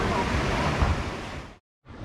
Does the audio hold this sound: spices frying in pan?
no